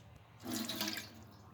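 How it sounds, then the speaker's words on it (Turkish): Tomato seeds and water are poured into a sieve, making a short, close gush of splashing liquid that swells and then tapers off after about a second. "Bu şekilde tohumlarımızı süzgecin içerisine döküyoruz."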